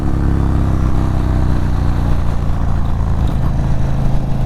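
A Stage 2 2022 Indian Chief Dark Horse motorcycle accelerates on a test ride, its engine droning loud and close with a steady low rumble and no voices.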